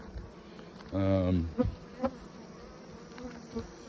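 Honeybees at a farm beehive give a half-second burst of close, loud buzzing, followed by a few brief faint buzzes as single bees pass by.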